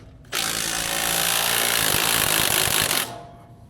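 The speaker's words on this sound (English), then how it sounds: "we're going to start here by taking out our bolt here." A power tool whirs loudly while a bolt is removed from the power steering gearbox of a 1997 Peterbilt 379 truck, as one continuous close burst that starts abruptly, holds steady for under three seconds, then cuts off.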